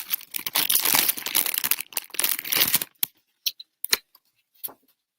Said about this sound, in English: Let me cut it down regular.